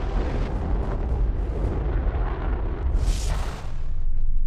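A roaring rocket-engine test firing in Fallout 4, a continuous deep rumbling blast with a hissing burst partway through and a swelling roar at the end.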